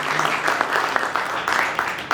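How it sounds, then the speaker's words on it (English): Crowd applause at a Medal of Honor convention, a steady patter of many hands clapping at moderate distance, filling the room without any clear speech. "Big round of applause, please."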